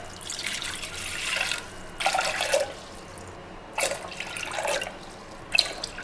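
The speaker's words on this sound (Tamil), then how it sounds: "அதுக்கு 4 டம்ளர் தண்ணி ஊற்றிக்கலாம்." Water is poured into a pressure cooker for cooking pearl millet, coming in several separate splashing bursts of a few seconds each with short pauses between, close by and with no talking.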